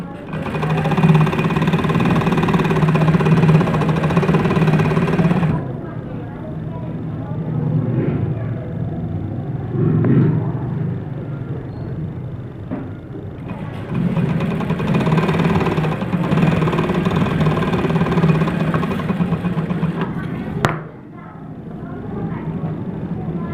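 A sewing machine runs stitching the back side of a frock, a steady close mechanical whir that pauses briefly around the middle, then resumes with a short clack near the end.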